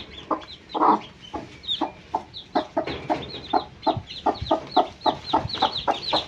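Chickens clucking in a quick, repeated series of short calls, fairly close and loud, with no talking.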